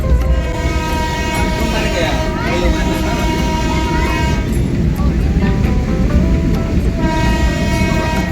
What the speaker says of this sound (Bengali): আমাদের টয় ট্রেন ছুটে চলেছে দার্জিলিংয়ের উদ্দেশ্যে